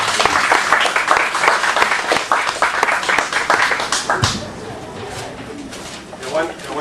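Audience at a crime-novel book fair in Penmarch claps, a dense burst of hand claps running for about four seconds, then fading into murmuring crowd and background chatter.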